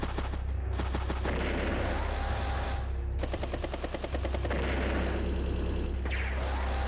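Missile strike in the video game Advance Wars: Days of Ruin, heard as dense, continuous game battle effects with rapid rattling bursts of gunfire-like crackle and booming impacts, loud throughout.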